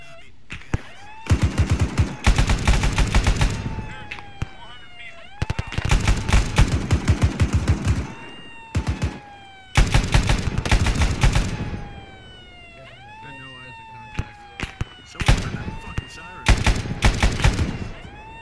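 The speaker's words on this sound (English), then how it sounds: "Taking shots from the north, northeast." Gunfire in the military video game Arma 3 rattles in long, loud automatic bursts and scattered single shots, with short pauses between volleys and a faint siren-like tone drifting underneath.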